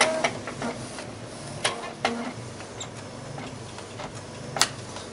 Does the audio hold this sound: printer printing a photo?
yes